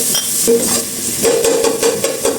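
Onion and garlic sautéing in cooking oil in a pan for Filipino sopas, a steady close sizzle with stirring scrapes and clinks over about two seconds, no voices.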